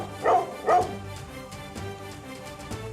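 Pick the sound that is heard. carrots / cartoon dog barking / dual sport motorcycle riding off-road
cartoon dog barking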